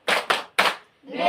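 Three crisp hand claps ring out in quick succession in a classroom clapping game, the first two close together and the third after a short gap, then a voice begins to speak.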